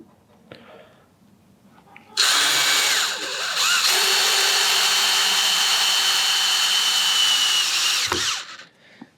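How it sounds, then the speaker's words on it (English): A power drill drives a 40mm screw into a pilot hole in a van conversion build until the head sits countersunk, a loud steady whir of about six seconds that slows and strains briefly partway through before stopping. "I'm going to actually screw this right until it's countersunk"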